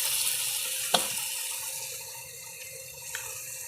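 Water poured into a pan of simmering fish curry made with stingray and eggplant, a steady running, splashing pour with a brief clatter near the start, close and moderately loud with no talk.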